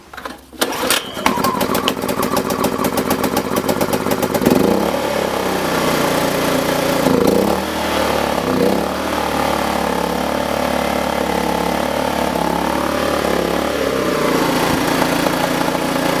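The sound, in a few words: VOIN small petrol generator starting and running in eco mode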